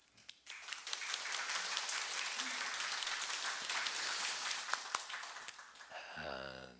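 A church congregation at a Sunday daytime worship service breaks into steady, full applause that holds for several seconds, with a few sharper claps near the end before a tonal sound takes over.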